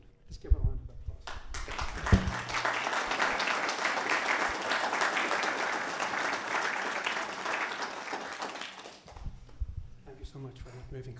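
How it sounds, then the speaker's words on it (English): A sustained round of applause fills a Church of Scotland funeral service in Carloway, rising quickly and holding steady for several seconds before cutting off, with speech just before and after. "Let's give her a round of applause"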